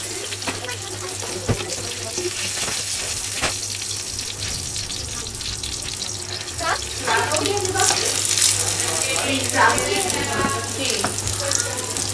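Bajias (fritters) frying in hot oil, a steady dense crackling sizzle that runs without a break and grows slightly fuller toward the end, with faint clinks over it and no talk.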